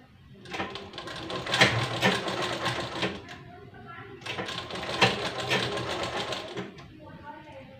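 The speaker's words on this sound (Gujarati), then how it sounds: "આ રીતે જે સિલાઈ લીધેલી છે તેના ઉપર જ આપણે સિલાઈ લેતી જવાની છે." Sewing machine stitching buckram onto a kurti lining, two long bursts of rapid mechanical stitching separated by a brief pause, close and loud, with someone speaking around them.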